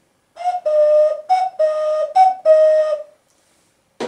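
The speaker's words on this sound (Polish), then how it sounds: "Mamy tu jeszcze różnego rodzaju piszczałki," Clay whistles of various kinds blown in a short series of six bright, steady tones with slightly varying pitch, close and loud, followed by a brief pause and a soft noise at the end.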